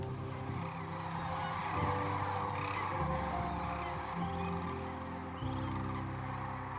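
Sandhill cranes gather along the Platte River in Nebraska in spring, their loud rolling calls layered into a steady, dense chorus from a large flock that fills the whole stretch without any talking.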